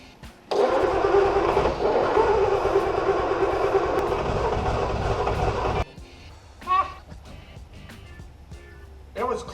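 A 1973 Triumph GT6 engine cranks and roars into a loud, rough, steady run for about five seconds before cutting out abruptly, followed by brief voices nearby.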